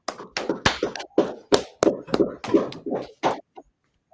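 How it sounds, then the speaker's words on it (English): A group of people clapping hands at a gathering, irregular loud claps and slaps in uneven bursts over several seconds, with voices mixed in between. "Clap it up, clap it up, clap it up."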